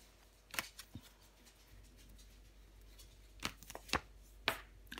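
Tarot cards are handled and laid down on a table, giving soft, sparse slaps and brushing taps. The sounds are quiet, close and irregular, with a small cluster of flicks toward the end and no talking.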